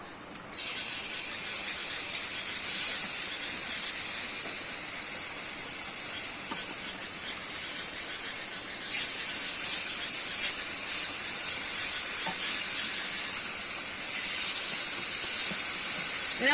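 Boondi batter drips through a perforated basket into hot oil, giving a continuous loud sizzling hiss that swells as fresh drops land, steady and close throughout.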